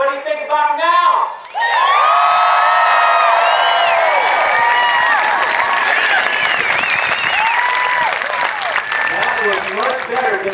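Loud, sustained applause and cheering from a large crowd at an Air Force basic military training graduation parade, with whoops and shouts over steady clapping that continues throughout after a brief voice at the start.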